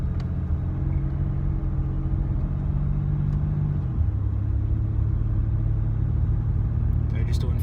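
A Ford Territory with a 2.7-litre TDCi turbo diesel V6 and its muffler deleted, cruising at about 40 km/h, gives a steady low droning rumble heard from inside the cabin. Midway the pitch drops slightly as the engine settles.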